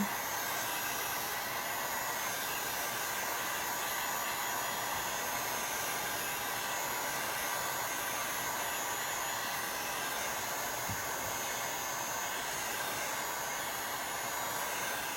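A crafting heat tool running steadily, a constant loud whooshing blower hiss with a faint whine, unbroken for the whole stretch and no talking over it.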